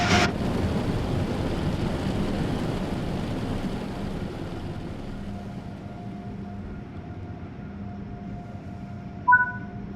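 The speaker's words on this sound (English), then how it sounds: "The back of the train is just becoming out of the train wash." Train pulling out of a train wash in the Train Sim World game, a steady rumbling roar that slowly fades, with a brief sharp clank at the start and a short horn-like tone near the end.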